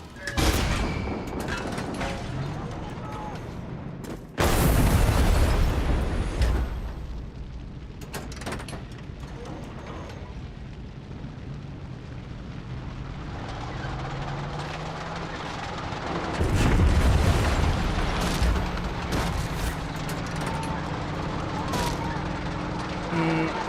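Heavy tank cannon blasts in the Far Cry 6 video game: a loud booming explosion bursts in, roars and rumbles for a couple of seconds, then a second big blast rolls out later amid ongoing gunfire and noisy game action.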